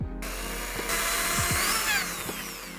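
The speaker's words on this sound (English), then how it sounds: "I'm just gonna literally just go and drill right here" A power drill whirs with a few rising and falling motor pitches as it bites into the sole of an Air Max 720 shoe, close by and uninterrupted by talk.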